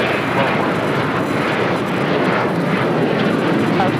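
An American Airlines jet takes off from runway 25 right at LAX, a loud, continuous broadband engine roar that holds steady throughout and sounds close.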